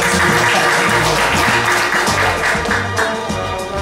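Clapping from members gathered at a Lions Club meeting, a dense steady patter filling the room from start to finish, close and loud with no voices over it.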